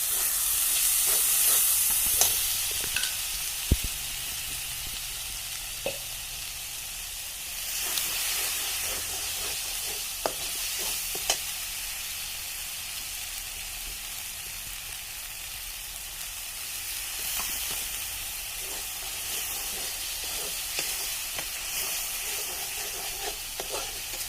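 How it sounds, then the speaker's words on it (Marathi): Chutney masala spice mix sizzling and frying in a pan for a rustic village-style egg dish, with a steady close hiss and occasional scrapes and clicks of stirring throughout, no talking. "छोटा दीड चमचा चटणी मसाला छान यामध्ये फ्राय करून घेऊया"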